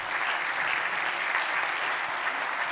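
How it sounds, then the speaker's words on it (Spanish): An audience at a Radio Lleida 90th anniversary gala applauds contestant Ignasi Calvo with dense, steady clapping that fills the hall at an even level for the whole stretch, with no voice on top. "un aplaudiment per l'Ignasi Calvo"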